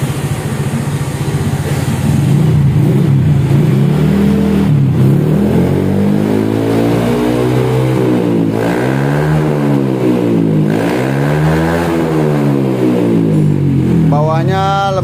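Honda Beat Deluxe scooter-style motorcycle fitted with a workshop-made racing exhaust, revving loudly and repeatedly up and down at close range, with rising and falling engine pitch throughout and speech faintly in the background.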